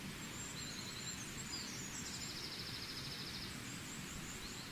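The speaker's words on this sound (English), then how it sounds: "Let's listen to these birds." Birds singing outdoors at dawn in an English woodland camp, thin high calls and trills drifting from a distance over steady low rustling and wind, faint throughout with no talk.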